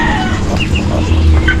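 Chickens in a backyard farm cluck softly, with a few short scattered calls over a dense, steady background hum.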